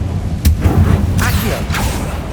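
Confringo blasting curse in Hogwarts Legacy, short booming explosive thumps with whooshing bursts, loud and close amid busy game combat sounds.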